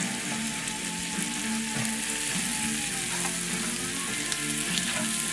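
Fish frying in butter in a pan, a steady close sizzle and crackle that runs throughout with an occasional stir or scrape, and no talk.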